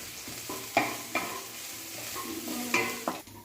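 Chopped ginger, garlic and green chilli frying in oil in a pan, a low continuous sizzle broken by several sharp scraping knocks of a spatula stirring the masala, close and without voices.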